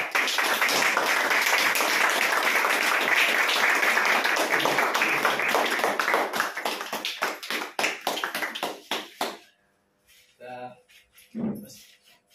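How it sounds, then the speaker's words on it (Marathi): A church congregation claps hands at a prayer service, a dense burst of applause that thins into scattered individual claps before stopping, followed by brief voices. "ठीक आहे, टाळ्या वाजवा."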